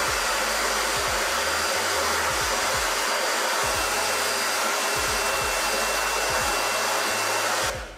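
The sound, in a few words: hair blow dryer running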